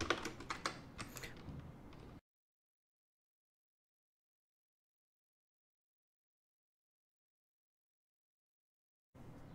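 Quick bursts of keystrokes on a computer keyboard, close and clear for about two seconds, then silence before a faint resumption at the end.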